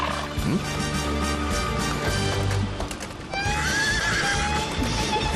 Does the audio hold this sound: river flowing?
no